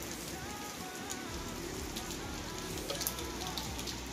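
Heavy rain pours steadily and densely onto surfaces, a constant close hiss with scattered droplet spatters, no talking heard.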